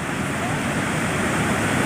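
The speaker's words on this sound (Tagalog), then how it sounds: "kasi ang laki ng buhos ang laki talaga ng baha" Floodwater rushes over an overflowing bridge with a loud, steady roar that fills the whole moment without a break.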